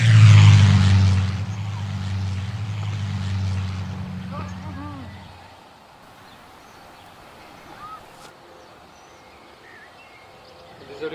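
A single-engine light aircraft drones loudly up close for about five seconds, then its engine noise drops away, leaving a quieter outdoor background with a brief clatter near the end.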